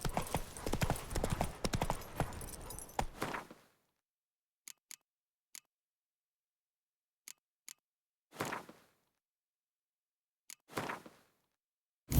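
Roach the horse in The Witcher 3 next-gen remaster, a dense run of hoofbeats that stops abruptly, followed by scattered sharp isolated clicks and two brief bursts of noise in near silence.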